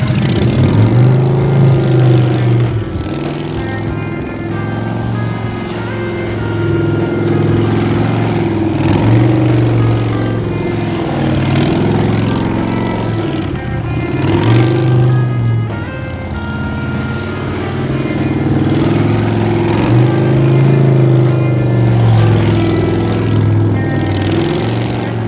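A motorcycle engine held at a steady throttle while riding figure eights, a loud continuous hum that rises and dips gently in a repeating cycle as the bike circles, with no voices.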